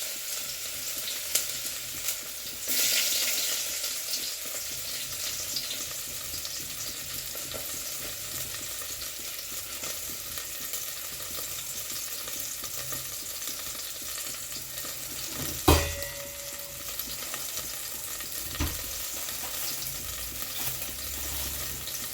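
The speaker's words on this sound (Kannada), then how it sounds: "ಇದು ಸಾಂಬಾರಿಗೆ ಈರುಳ್ಳಿ ಹಾಕ್ತಾಯಿದ್ದೀನಿ" Onions fry in oil for a sambar, making a constant close-up sizzle with a brief louder burst early on and a couple of sharp utensil knocks later.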